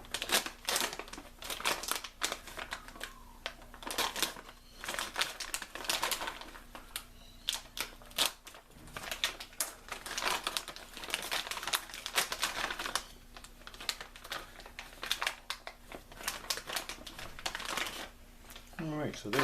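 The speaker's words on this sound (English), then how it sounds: "So I'll need to cut this out of its little house." A buck converter power supply board for a TS-940 radio being cut out of its housing, giving a dense, continuous run of crackling, snapping and scraping noises close up with no talking.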